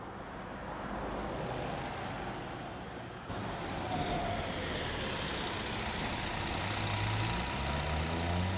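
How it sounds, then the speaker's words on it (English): A city bus on a Wolverhampton route pulls away after unloading passengers, crossing a crossroads and turning round at a junction island; its steady engine rumble is joined by a short air-brake hiss in busy road traffic. "here's our bus. It's just unloaded passengers, passes the crossroads and turns round at the island at the junction with the"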